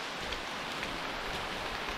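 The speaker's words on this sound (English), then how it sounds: "Today's the only day it rained out of the 3 it was supposed to." Steady rain falling on a forest trail in Oil Creek State Park, an even, soft hiss of drops on leaves and ground with no voices.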